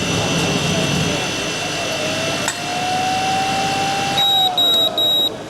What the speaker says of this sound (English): beeps to let you know that the recovery has been complete and automatically shuts off